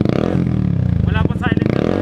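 A Yamaha R15 motorcycle with no silencer fitted idles loud and close with a dense harmonic exhaust drone, rising in two short blips of revving partway through.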